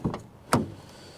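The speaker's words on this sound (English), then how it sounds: "door closing sound, which isn't hugely brilliant." Two soft thuds close by, the second a firmer solid clunk of a Renault ZOE car door shutting, in a quiet interior.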